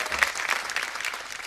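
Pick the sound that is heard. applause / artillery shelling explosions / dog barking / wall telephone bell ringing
applause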